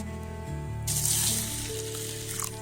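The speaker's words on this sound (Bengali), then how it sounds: "চলো মুসুরির ডাল ধুয়ে নেবো" Red lentils being rinsed in a pot of water, with splashing and swishing that swells after a short pause and continues in a steady wash, close and moderately loud.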